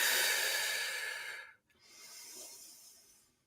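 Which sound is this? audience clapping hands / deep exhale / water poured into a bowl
deep exhale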